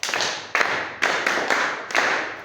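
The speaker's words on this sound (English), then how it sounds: "Let's clap hands for ourselves" A class of pupils claps hands together in several short bursts of applause, each burst starting sharply and fading, close and fairly loud with no talking.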